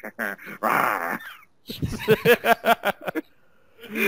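A voice mimics the halting, throaty growl Jeff Goldblum makes in Jurassic Park, a rough drawn-out rasp followed by a run of short, choppy grunting bursts, close and loud.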